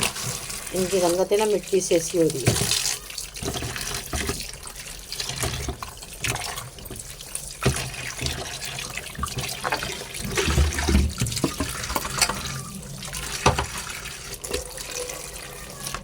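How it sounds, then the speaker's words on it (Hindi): Water poured into a cooking pot of meat and tomatoes in a home kitchen, a splashing, gurgling fill that sounds loudest at the start and then settles into softer sloshing as someone speaks over it. "चलिए इसमें पानी शामिल कर लेते हैं"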